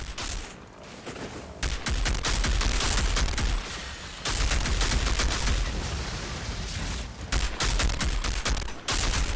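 Rapid bursts of gunfire from the shooter video game Outriders, dense and loud volleys firing almost continuously with brief gaps, no voices over them.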